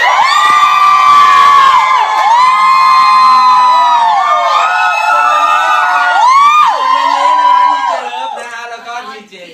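A music show audience screams and cheers loudly and continuously, high shrill voices sustained throughout, fading toward the end.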